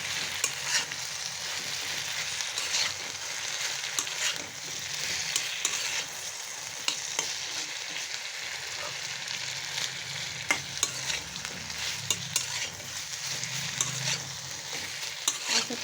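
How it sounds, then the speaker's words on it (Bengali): Chalta (elephant apple) pickle being stirred in a pan: continuous close scraping and stirring over a steady sizzle, with irregular clinks and knocks of the spoon throughout, no talking. "চালতার আচারটা আমি নেড়ে দিচ্ছি।"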